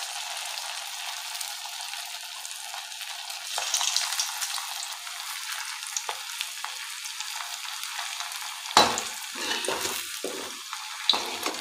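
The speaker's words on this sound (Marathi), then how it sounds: "आणि उरलेले सर्व बॉल्स असेच तळून घेऊया।" Cabbage manchurian balls deep frying in a kadhai of hot oil, a steady close hiss and sizzle with louder bubbling crackles and occasional stirring clinks as the balls are turned.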